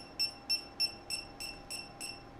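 A Traver SL568 speedlight flash emits a low-battery warning, seven short high beeps in an even rhythm, quiet and close with no talk over them.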